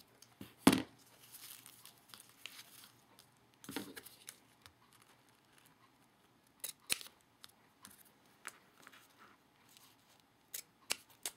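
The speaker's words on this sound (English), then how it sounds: "I'm going to use my little pinking shear scissors" Small pinking shear scissors snip and trim card paper close up, giving a few distinct crisp cuts separated by quiet gaps, with light paper handling rustling in between.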